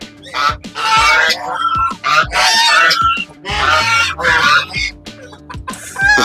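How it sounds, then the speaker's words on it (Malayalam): Chickens of various breeds cluck and squawk nearby in repeated bursts in Kerala, several birds calling over one another with short pauses, alongside a faint steady hum. "വിവിധ കോഴികളുണ്ട്"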